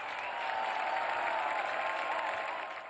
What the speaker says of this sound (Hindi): जोरदार तालियां इन सारी जोड़ियों के